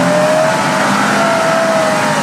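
A car engine revs hard as it accelerates off-road, steady and loud throughout with no talk over it.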